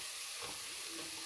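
Onions hit a hot pan on lowered heat for shrimp bisque, giving a brief, faint, steady hiss of sizzling with no voices.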